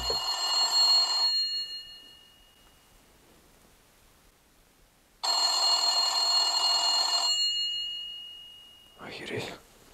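A telephone rings inside a house in two long, bright bursts separated by a quiet pause, followed by a brief voice.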